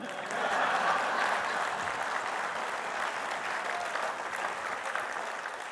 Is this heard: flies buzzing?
no